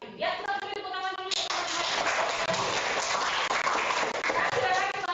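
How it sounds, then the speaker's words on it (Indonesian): Students applaud in a classroom after a lesson on electricity in everyday life. A voice speaks briefly, then a burst of close, dense clapping starts and carries on steadily to the end. "kita beri tepuk tangan dulu"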